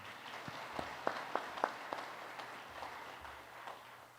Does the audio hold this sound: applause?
yes